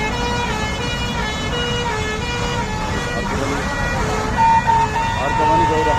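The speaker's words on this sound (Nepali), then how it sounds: "दुईटा दमकल गइरहेको छ।" Two fire engines from an army garage pass with wailing sirens during a large blaze, loud and sustained, with horn toots, traffic noise and people talking under them.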